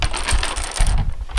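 Dominoes rattle and clack together as they are shuffled across a tabletop, a loud, dense, continuous clatter heard up close with no voices.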